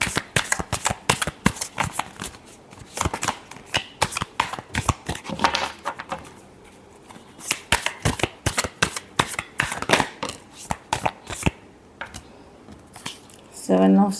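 Tarot cards being shuffled in rapid riffling bursts, crisp and close, repeating in uneven clusters with brief pauses, with someone speaking Hindi at moments between them.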